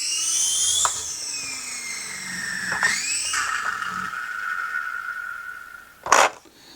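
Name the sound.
GoolRC K127 micro RC helicopter trying to take off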